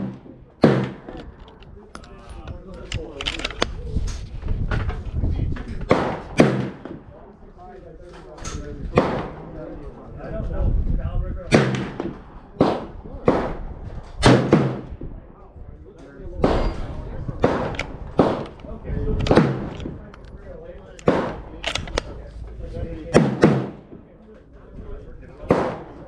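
Repeated sharp gunshots from a CZ750 sniper rifle fired outdoors on a windy day, about a dozen loud, distinct cracks spaced a second or two apart over steady wind rumble.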